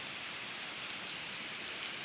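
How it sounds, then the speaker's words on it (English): Steady, dense rain falls outdoors at a nature center near a red wolf enclosure, a continuous hiss of drops on surfaces with no other sounds standing out. "We're standing out in the rain for you."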